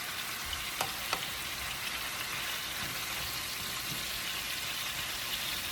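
Oxtails browning in a pot give off a steady, even frying sizzle with faint broadband hiss, plus a couple of brief sharp pops early on, heard up close without any voices.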